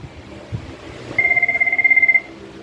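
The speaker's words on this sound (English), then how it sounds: "now it's ringing" A Cisco 7942G IP phone rings with a steady electronic warbling tone, close and clear, lasting about a second in a quiet room.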